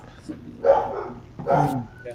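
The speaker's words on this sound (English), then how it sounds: "He's barking at the guys that are working on the water heater." A dog indoors barks at workers repairing a water heater, two short loud barks about a second apart, with someone talking over and around them.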